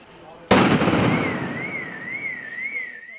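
A bomb disposal team's controlled detonation of a suspicious poster: one sudden, loud blast, then a long fading rumble with a thin wavering tone ringing through it.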